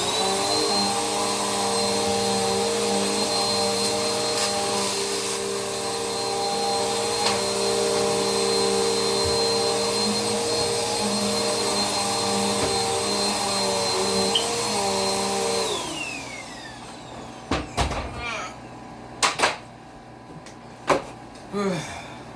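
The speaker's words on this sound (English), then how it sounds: "that marks the end of me vacuuming my room" A vacuum cleaner drones loudly and continuously while cleaning a bedroom and closet, then powers down about two-thirds of the way through, leaving a few sharp knocks and bumps of things being moved in the room.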